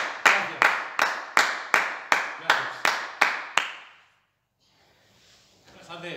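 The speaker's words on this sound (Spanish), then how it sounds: "Un gran aplauso." Nine sharp, evenly spaced claps ring out one after another, loud and close, from participants at the end of an indoor spinning (cycling) class at a fitness club, followed by near silence and then faint room noise.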